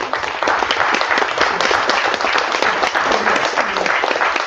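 Dense, steady audience applause at an AI industry summit session, many hands clapping loudly and continuously with no voices over it.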